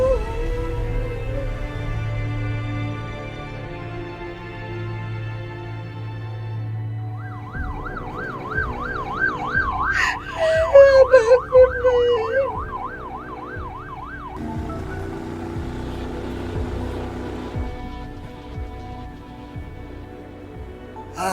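An ambulance siren wails loud and close over a low engine rumble, cycling through rising and falling tones for several seconds before fading back into traffic-like background noise.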